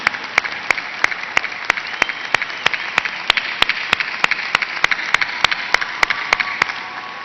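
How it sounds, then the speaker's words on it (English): Applause at a 2013 Northeastern University undergraduate commencement ceremony: a broad wash of crowd clapping with one sharp, close pair of hands striking in a steady, even rhythm above it. "Let's give them a big round of applause."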